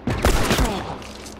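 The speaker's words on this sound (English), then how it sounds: "Got shot from somewhere." Gunfire in The Last of Us, a short burst of close, loud shots crackling together in quick succession, then fading.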